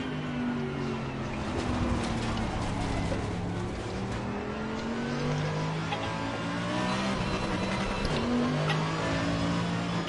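Race car engine in the Assetto Corsa racing game revving hard under full throttle, loud and continuous with rising and falling pitch as gears shift, plus some tire squeal.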